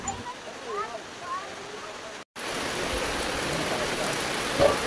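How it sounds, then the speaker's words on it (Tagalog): Very heavy rain pours down as a steady, loud hiss with a brief break partway through, a person speaking faintly over it at the start. "Sobrang lakas talaga ng ulan, pero maya-maya titigil din yan mga mi."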